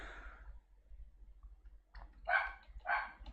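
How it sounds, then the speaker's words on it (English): A dog barks somewhere nearby, a couple of short, muffled barks following a softer opening sound, fairly faint against a low hum. "Dog keeps on barking at something."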